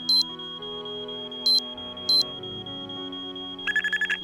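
An alarm system in the Nancy Drew game Treasure in the Royal Tower gives three short high electronic beeps over a steady droning tone, then a quick rapid series of beeps as it is switched off.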